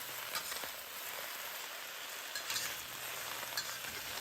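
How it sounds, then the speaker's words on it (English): Bok choy and other Chinese vegetables searing over high heat give a steady, faint broadband sizzle with a few soft ticks and pops, unbroken by any voice. "Now turn the heat on to high to sear your veggies."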